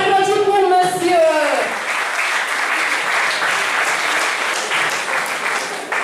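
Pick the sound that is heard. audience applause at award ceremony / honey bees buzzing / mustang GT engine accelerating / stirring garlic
audience applause at award ceremony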